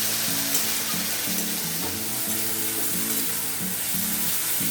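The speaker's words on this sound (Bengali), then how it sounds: "পেঁয়াজটা একটু লাল লাল করে ভাজতে হবে।" Onion paste sizzling in a pan of hot oil as it fries toward a reddish colour, a dense, even crackle heard close and continuous with no speech.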